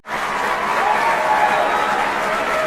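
Audience applause after a friend's imitation of the cameraman's voice from Earthbound, a dense steady clapping from a crowd, loud and sustained for the whole stretch.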